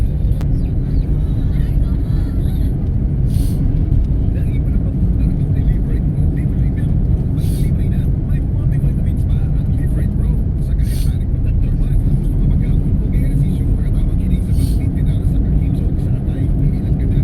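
Steady road traffic rumbles on without a break, with passing cars and engine noise forming a continuous low wash, and people talk over it now and then.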